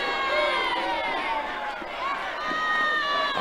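A college softball crowd cheers and shouts in a sustained, lively roar, with voices rising and falling across the stands.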